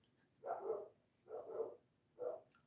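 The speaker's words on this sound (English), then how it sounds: "Why are my dogs barking like they crazy?" Dogs bark three times at a distance, muffled, evenly spaced barks of moderate length with quiet gaps between them.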